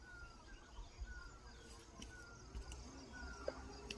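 Faint bird calls sound from far off, a few thin chirps scattered over a quiet, steady outdoor hum.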